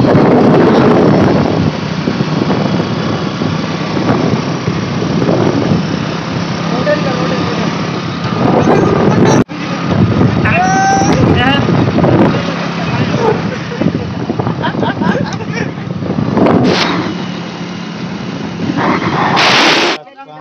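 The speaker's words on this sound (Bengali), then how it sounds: "আমাদের বাইক চালাচ্ছে" A motorbike runs along a road on the way to the Subarnarekha Makar Sinan fair, its engine droning with wind buffeting the microphone, while voices talk over it and brief tones chirp near the end.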